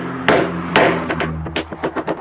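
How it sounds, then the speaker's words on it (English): A hammer drives scrap wood against a wooden porch post in a series of sharp, close knocks. Two heavy blows come first, then a quicker run of lighter taps, with no talking. "hammer it until you get it where you want it to go"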